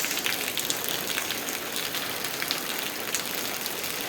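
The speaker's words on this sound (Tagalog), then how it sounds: "Bagong ulan" Steady heavy rain pours down, a dense, continuous hiss of drops hitting surfaces with no voices.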